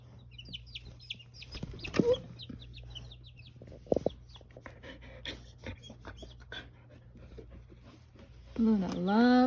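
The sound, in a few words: baby chicks cheeping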